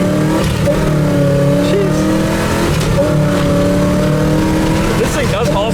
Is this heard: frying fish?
no